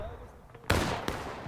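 A Confederate musket volley crackles in the War of Rights video game along the Hagerstown Turnpike, a ragged burst of shots followed by a second sharp report, distant and fairly loud over a low field ambience.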